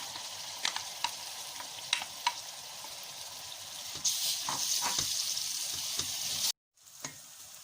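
Rice being added to a pan and stirred for stuffed dried peppers and aubergines: light spoon taps and scrapes, then a louder steady sizzle as the grains go in, briefly cut off before one last clink.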